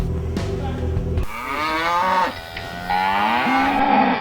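Dairy cows on a Dutch farm mooing, long drawn-out lowing calls that overlap one another, loud and close against a steady background hum.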